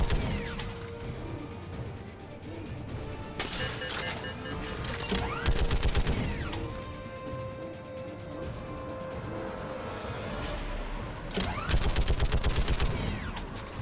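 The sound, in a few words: gunfire from guns in the video game Mass Effect 3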